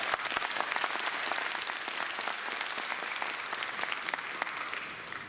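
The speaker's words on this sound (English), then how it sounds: "let's give them all a big round of applause" A large audience applauds performers at a Chinese Association event, a dense, steady wash of many hands clapping that fills the room evenly and continues without a break.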